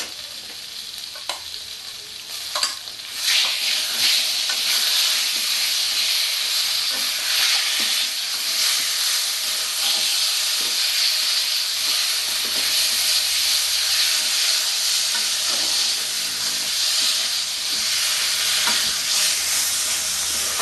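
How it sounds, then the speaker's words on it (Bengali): Kofta curry masala with sour curd sizzles and fries steadily in an oil-filled wok while being stirred, a continuous close, loud hiss with occasional scraping stirs and no talk. "যতক্ষণ আমার কড়াই থেকে তেল ছাড়বে ততক্ষণ আমি এটাকে করতে থাকবো"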